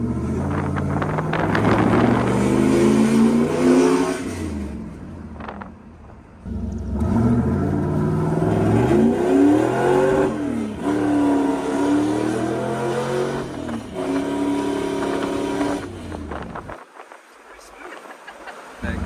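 A deep V8 exhaust on a Mitsubishi Starion rumbles and revs loudly, rising and falling, with a metallic rattle from a loose piece inside the passenger-side baffled boom tube riding on the drone; a voice talks over it.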